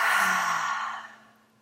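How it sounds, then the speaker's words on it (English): A single deep clearing exhale during a meditation session, a breathy sigh that starts full and loud, then fades away over about a second and a half, close to the ear with no talking. "Just taking those nice clearing breaths, bringing us into our bodies"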